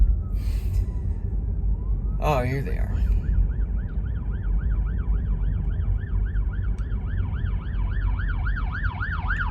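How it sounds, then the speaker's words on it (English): Wailing emergency sirens rise and fall rapidly, growing louder as vehicles approach over steady road rumble, with a brief voice speaking near the start. "Oh, I hear sirens."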